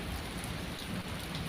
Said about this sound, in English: The rain continued its rhythmic dance, and the thunder lulled me into a fitful slumber.